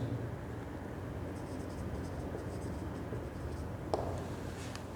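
A teacher writes on a classroom board during a computer science lecture, faint scratchy marker or chalk strokes in short bursts over a quiet room hum, with no talk.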